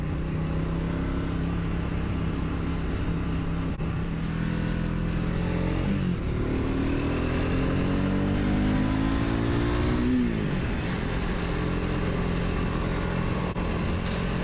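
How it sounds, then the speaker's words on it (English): A Triumph Speed 400 motorcycle exhaust pulls hard through the gears, rising in pitch with each gear and dropping at the shifts, loud and steady with wind noise and no talk. "I thought I'd let us enjoy the exhaust note there as I punch through the gears."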